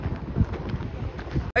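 Strong outdoor wind in Bandra, Mumbai buffets the microphone with a steady low rumbling roar and gusty swells, ending in a brief cut-off.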